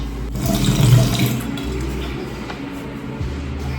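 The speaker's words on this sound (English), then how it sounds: "I'm going to wet my hair a little bit, not much." Tap water running steadily while someone wets their hair, a close splashing stream with a brief louder gush early on, then a softer continuous flow; no talk.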